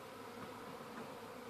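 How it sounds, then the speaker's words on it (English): A honeybee swarm gathered on a tree branch gives off a faint, steady buzzing hum from a distance outdoors, with no voices. "They're building a swarm on a branch up there."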